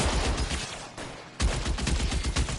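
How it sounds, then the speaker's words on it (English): Rapid automatic gunfire from a machine gun in the video game L.A. Noire, loud bursts broken by a short quieter gap before another sustained volley. "Shooter has a machine gun."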